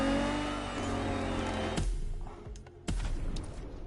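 Racing video game car engine driven with a manual clutch and H-pattern shifter, a steady loud drone that cuts off sharply, then surges back twice in abrupt revs with brief quieter gaps.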